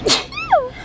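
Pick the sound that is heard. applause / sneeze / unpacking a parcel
sneeze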